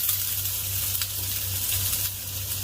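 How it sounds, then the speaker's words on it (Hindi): White onion added to browned garlic and sautéing in a pan, giving a steady bright sizzle with a low hum beneath it, close and unbroken. "सबसे पहले मैं इसमें शामिल करूंगा वाइट अनियन"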